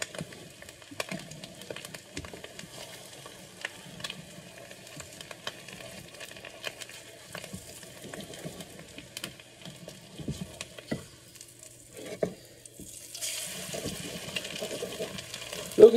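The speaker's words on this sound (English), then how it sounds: "just let the egg cook for a minute" An egg frying in a pan on turned-down heat for a bacon, egg and cheese sandwich, a soft steady sizzle with light crackles running throughout, brightening toward the end.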